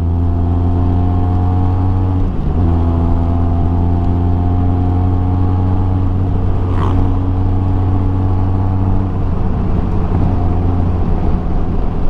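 Benelli TRK 502 motorcycle on a test ride, its engine droning steadily and loud with a shift in pitch early on, a continuous close hum throughout.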